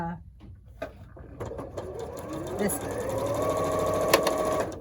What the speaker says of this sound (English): this block is. You don't see it in a quilt very often.